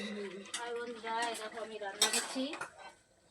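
Pots and metal utensils clatter and clink during home cooking in a kitchen, a run of close scraping, stirring and sharp metallic knocks, with a brief voice heard faintly under the clatter.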